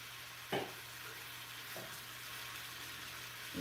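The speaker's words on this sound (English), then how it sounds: "Let that simmer, let that cook, not simmer." Seasoned food with garlic, adobo, pepper and parsley fries in a pan at home, a faint, steady sizzle with a few soft utensil knocks and stirs.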